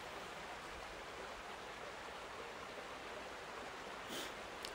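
Stream and waterfall along a hiking trail, a steady, even rush of flowing water with no pauses, heard alone at moderate distance.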